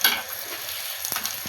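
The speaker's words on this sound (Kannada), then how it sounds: "ಎಲ್ಲ ಸಂಡಿಗೆ ಇದೇ ರೀತಿ ಹಾಕ್ಕೊಂಡು ಡೀಪ್ ಫ್ರೈ ಮಾಡ್ಕೊಂಡು" Sandige, a masala-spiced sun-dried fritter, deep frying in hot oil, giving a steady soft crackle and fizz with a brief sharper burst of sizzle near the end, close and alone.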